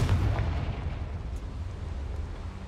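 Confringo explosion spell in the video game Hogwarts Legacy, a single deep booming blast at the start that rumbles and fades over the next couple of seconds.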